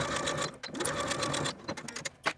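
A sewing machine stitches a lapel seam on a vest, its needle running in a steady whir that pauses briefly and then restarts in short bursts, close and loud with no talking.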